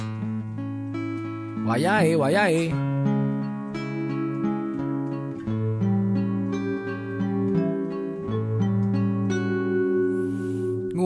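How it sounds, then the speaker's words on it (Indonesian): Keyboard-style synth tones from a Roland GR-20 guitar synthesizer, with sustained layered chords shifting steadily and a brief pitch-bending swoop near the start, played over ongoing singing. "Ini suara keyboard dari kakiku, aku pakai Roland GR20."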